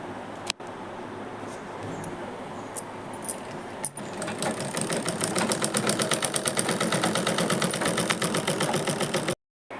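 A sewing machine stitches fabric strips onto a doormat, starting after a few quiet seconds of handling and clicks, then running in a fast steady mechanical rattle for several seconds before stopping abruptly.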